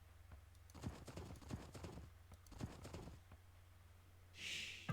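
Scout cavalry horse hooves in the Age of Empires 2 video game, a few soft clip-clop bursts of trotting in game audio, with a brief whinny-like sound near the end.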